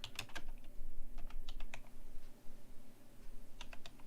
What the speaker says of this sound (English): I'm typing that in right now